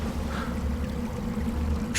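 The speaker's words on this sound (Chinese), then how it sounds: "水声？" Water flows inside a cave in an audio drama scene, heard as a steady, low, murky rush, as if from some distance, with no voices.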